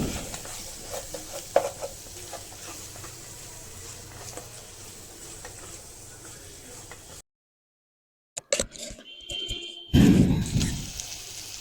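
Chili powder and turmeric being stirred into a curry frying in a pan for mushroom curry, a close sizzle with scraping stirs, then a sudden gap of silence before louder clatter and stirring resume.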